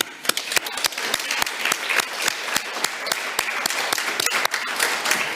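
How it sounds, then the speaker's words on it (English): An audience at a climate and culture event gives a round of applause, dense sustained clapping with sharp individual claps standing out throughout, fairly close and loud. "That's a round of applause right there."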